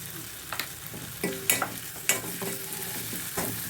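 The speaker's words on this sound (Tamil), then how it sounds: "இதுவுமே நல்லா வதங்கட்டும்" Onion, tomato and chili powder frying in a pan for a mushroom gravy, with a soft steady sizzle and repeated scraping stirs and light spatula taps at close range.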